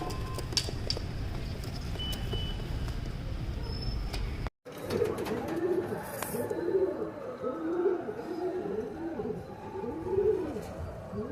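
Teddy pigeons, a male and a female, coo in repeated soft rounded calls close by, following a stretch of rustling and background noise.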